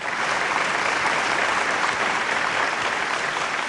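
Audience applause at a Hindi hasya kavita (comic poetry) recital, a dense, steady wash of many hands clapping together, loud and unbroken throughout with no voices over it.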